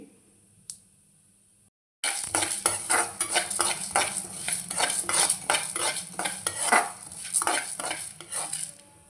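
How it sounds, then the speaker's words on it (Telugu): Lentils and dried red chillies roasting in ghee for a drumstick-leaf powder, a spoon repeatedly scraping and stirring a pan with a soft sizzle, close and steady after a quiet start. "పప్పులు కానీ ఎండుమిర్చి కానీ ఇవన్నీ మాత్రం నెయ్యి వేసి కొంచెం వేయించుకోవాలండి"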